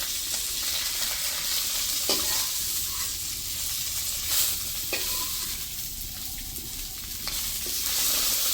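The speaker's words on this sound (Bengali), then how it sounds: "মাছগুলি ভাজা হয়ে গেছে, এখন তুলে নেব।" Fish sizzles in hot oil in a pan, a steady hiss with occasional clinks and scrapes of a spatula turning the pieces, heard close and without any talk.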